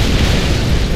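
A loud, close explosion in the video game Halo 3: ODST, a dense rumbling burst that fills the whole second without a break.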